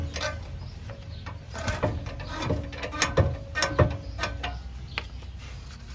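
A socket wrench ratchets while working on the exhaust of a 2009 Ford Escape during a muffler replacement, giving a series of short, uneven clicks close by against a steady background hum.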